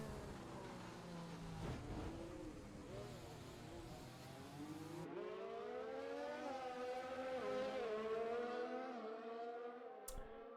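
Formula 1 cars race in a video game event at Japan, with rising and falling engine whines layered over one another as the cars pass, loud and continuous throughout, with a short sharp noise near the end.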